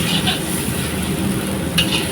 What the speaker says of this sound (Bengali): আদা রসুন বাটা দিয়ে কষা করছে আর কি পেঁয়াজটাকে।